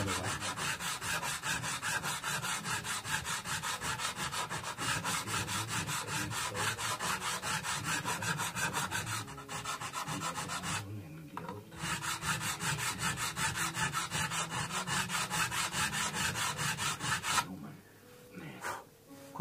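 A file rasps back and forth across jumbo frets on a Sunn Mustang guitar in rapid, steady strokes, close and continuous, with brief pauses between passes.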